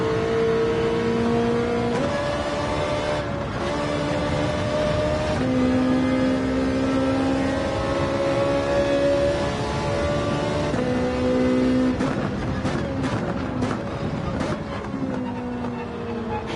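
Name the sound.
Lamborghini race car engine in Gran Turismo 7 video game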